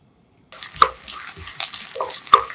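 Chopped whole garlic and sliced green onion start to sizzle and crackle in olive oil in a pan over medium-low heat, a steady frying hiss after a short silence with a couple of louder pops.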